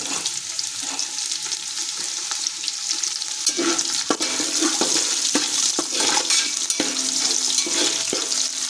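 Chopped garlic frying in hot oil in a pan for spicy bhadang puffed-rice snack, a steady loud sizzle with sharp stirring clicks and scrapes throughout, no talking.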